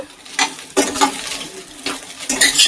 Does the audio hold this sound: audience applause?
no